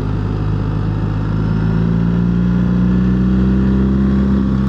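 A BMW R 1300 GS motorcycle engine gurgles with a steady, loud low rumble throughout, as if heard from the rider's position, with no voices.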